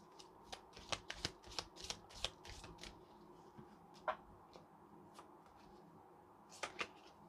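Tarot cards are shuffled up close, a quick run of crisp riffling snaps and soft slides in bursts, then a pause and a few more flicks.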